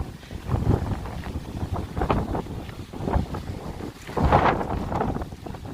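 Strong wind buffets the microphone outdoors among trees near German wartime bunkers, in repeated low roaring gusts, loud and close, with no one speaking.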